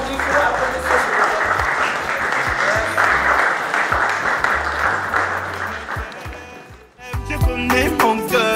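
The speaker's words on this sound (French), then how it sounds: "Monsieur Vincent Dufour, applaudissez." Wedding guests applaud in a sustained, lively burst as the groom enters on his mother's arm, with voices underneath; near the end the clapping fades and music begins.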